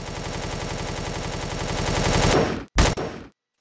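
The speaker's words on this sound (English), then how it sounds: "Let's try shooting the core out" Sustained automatic gunfire from a weapon in the space survival game Empyrion, fired at a core: loud, rapid, steady bursts for over two seconds, then a brief cutoff, one final sharp burst and silence.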